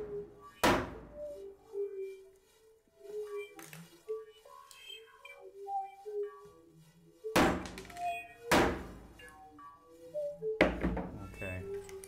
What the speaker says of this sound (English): First, I'm gonna knock out these lenses and this glasses.